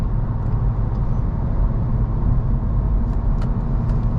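Engine of an affordable manual car hums steadily from inside the cabin while driving, a continuous low rumble with road noise and faint light clicks, no talking.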